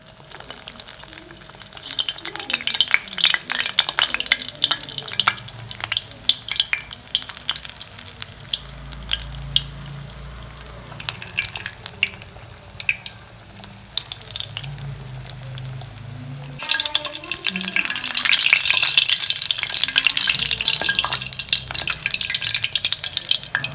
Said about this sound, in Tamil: இன்னும் ஃபைனலாக இதை எடுத்து எண்ணெயில் போட்டு எடுக்க வேண்டியது தான்